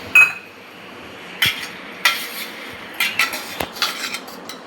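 Plates and cutlery being washed, with scattered clinks and clatters of dishware against a faint background hiss of running water, fairly close, no talking.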